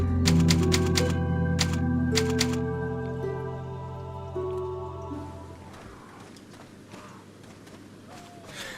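Typewriter keys clatter in Resident Evil 4 on GameCube, a rapid run of sharp strikes over a sustained musical chord, then the tapping stops and a low rumbling ambience with faint clicks takes over.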